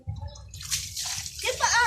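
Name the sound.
water poured over a child bathing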